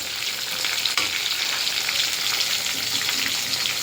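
Prawn curry fries in a pan just after asafoetida goes in, a steady dense sizzle that holds close and even throughout with one brief knock near the start, and no voices.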